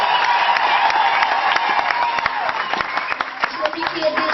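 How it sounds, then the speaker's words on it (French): A church congregation claps and cheers for the Lord, dense sustained applause with crowd voices mixed in, loud and close throughout. "Acclamez trop fort pour le Seigneur"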